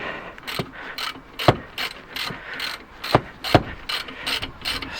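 A ratchet with a 14 mm socket loosens a brake caliper bolt on a 2014 Nissan Juke. The clicks are rapid and close, in quick repeated bursts of pawl ticks with a few louder snaps.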